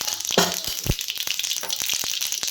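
Mustard seeds and a pinch of cumin crackle and sizzle in hot oil for a Maharashtrian moong pithla, with a steady high hiss broken by sharp popping spatters and a few louder bursts, close and alone.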